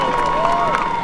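A crowd at an ice speedway World Championship qualifying round in Örnsköldsvik, Sweden, cheering loudly in a brief burst of shouts and applause.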